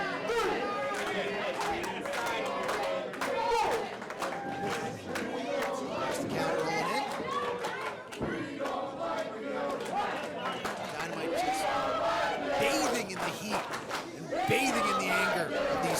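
A live professional wrestling event crowd roars and chatters steadily for the whole stretch, a dense, close wall of cheering with swells, while a commentator talks over it.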